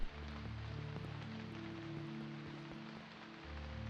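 Continuous rain patters densely on a surface, a soft even hiss with a low droning hum beneath it.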